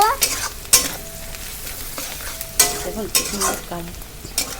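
Chili powder and turmeric being stirred in a hot frying pan, loud close scraping strokes over a constant sizzle, with a few metallic clinks of the spatula against the pan.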